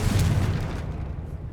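A Confringo spell explosion in Hogwarts Legacy, a single loud, deep boom that rolls off and fades over about a second.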